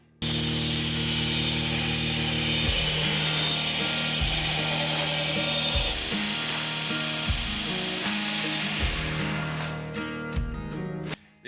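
Continuous harsh grinding of a Damascus steel falchion blade in a forge workshop, a loud abrasive whine with rhythmic low-pitched pulses as the steel is worked, easing off near the end.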